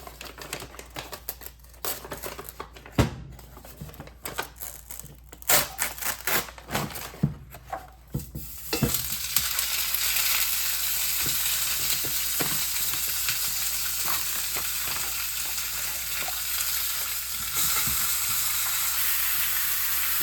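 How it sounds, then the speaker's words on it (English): Frozen steak hits an overheated, smoking pan: a scatter of sharp crackles and pops gives way to a loud, continuous close sizzle that holds steady to the end, with no voices. "once you add the frozen steak, the pan's gonna cool down and stop smoking."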